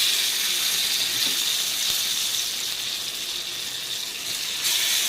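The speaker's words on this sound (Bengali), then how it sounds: "আমি দেখুন কীভাবে ধোকাটাকে ভেজে নিচ্ছি" Lentil cakes (dhoka) frying in hot oil, a steady bright hiss and crackle that holds evenly throughout, close and fairly loud with no talking.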